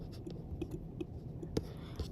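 Pen scratching on paper while working a maths homework problem, soft, close and faint, with short irregular strokes and a low background hum.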